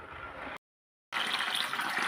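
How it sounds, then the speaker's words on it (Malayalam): Water rushes over green peas soaked for eight hours as they are washed, a splashing flow that cuts off briefly and then resumes strongly. "ഗ്രീൻ പീസ് നല്ലതുപോലെ കഴുകിയെടുക്കാം."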